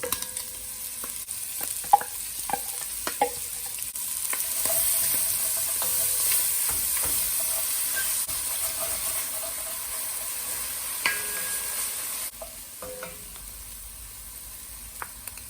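Tomato paste cooking in a pan with pancetta for Bolognese, a steady hissing sizzle with stirring clicks and scrapes, the hiss dropping lower near the end.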